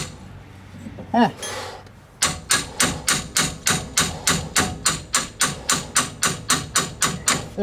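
Hammering on a Ford F-150 twin traction beam during a suspension swap, a fast steady series of about twenty sharp metallic blows, close and loud, after a brief clank and grunt.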